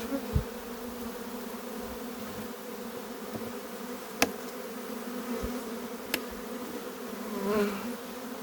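Honeybees take off from an opened hive in a steady, close buzzing drone, with a few soft knocks, and the swarm noise swells briefly near the end.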